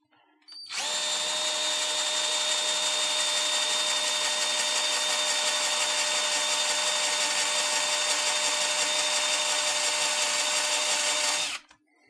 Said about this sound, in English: I am pretty sure I am turning the drill bit the right way round.